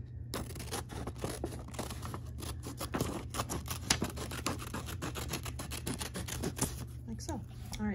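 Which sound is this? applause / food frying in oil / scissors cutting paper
scissors cutting paper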